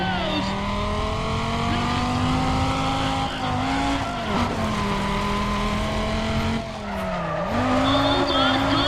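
A Dodge Viper in a racing video game, its engine droning steadily with pitch dips as it shifts and corners, tires squealing through skids, loud and continuous throughout.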